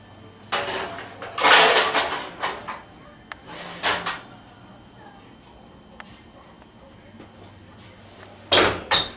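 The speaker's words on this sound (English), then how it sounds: "Okay, open up that oven." An oven door opening in a home kitchen during duck roasting, a few knocking clunks and rattles of the door and pans spread across several seconds, with short pauses between them.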